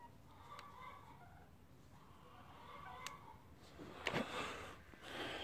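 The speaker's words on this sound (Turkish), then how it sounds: "Hindileri dışarı bıraktım." Turkeys let out onto the grass of a rural yard give scattered clucks and gobbling calls at close to middle distance, with a louder burst of calls near the end over faint outdoor background.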